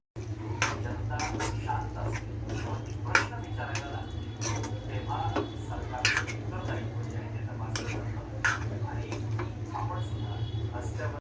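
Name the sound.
sautéing prawns in masala in a pan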